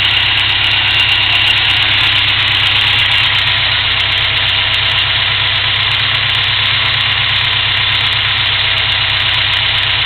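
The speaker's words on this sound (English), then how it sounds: "Motor's not, you know, it's a little rumbling, like I said, but nothing like before where it was trying to shake off the mount" A motor runs steadily with a slight low rumble and a constant hum for the whole stretch, a fan blowing nearby adding broad noise over it, with no talking.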